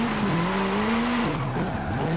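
A car skidding in Forza Horizon 5, a sustained tire squeal that wavers in pitch over a continuous engine drone, loud and close.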